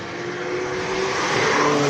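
A GTS race car climbs a hill course at the Speed Classic King of the Mountain event in Cape Town, its engine droning loud and close in a steady rising tone over nearly two seconds.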